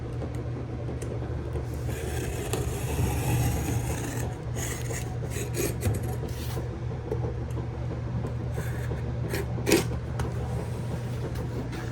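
Saw cutting through the wooden base plate beneath a studded wall, a steady continuous rasping grind that runs throughout at close range, with one brief sharper knock near the end.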